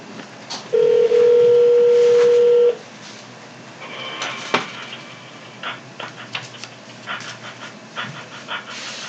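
Telephone line tones during a call transfer: a steady electronic beep tone for about two seconds, followed by faint clicks and crackling line noise.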